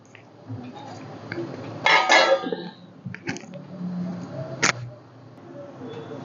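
A lid is set down on a pot of simmering clam curry, giving a brief metallic clatter midway and a sharper clink a few seconds later over quiet kitchen background.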